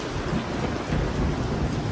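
Heavy monsoon rain in the Western Ghats pours down with rolling thunder, a dense, loud, unbroken roar filling the whole moment without any voices.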